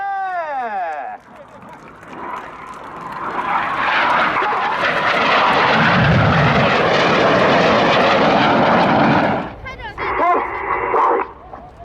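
Red Arrows jets fly an aerobatic Synchro Pair display with coloured smoke at the Yeovilton Air Day; a loud, sustained jet roar swells overhead and then fades, with a commentator's voice at the start and end.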